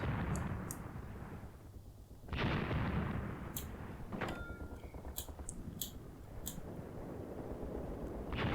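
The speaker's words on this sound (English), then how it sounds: "we're going to try and call in some more 25-pounder fire" In a World War II tank game set at Longstop Hill, Tunisia, in 1943, 25-pounder artillery fire lands as heavy, rumbling booms. A loud blast at the start and another partway through stand out over a constant low battle roar, with sharp clicks scattered through it.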